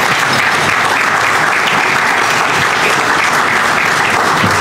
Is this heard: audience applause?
yes